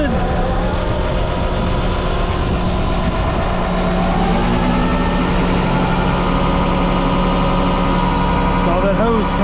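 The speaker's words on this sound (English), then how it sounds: "Pump is turning good." A truck-mounted pump unloading road oil in winter runs steadily at a loud, constant drone with a low engine rumble throughout, with no break in the sound.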